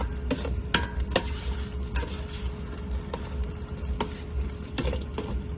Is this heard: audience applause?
no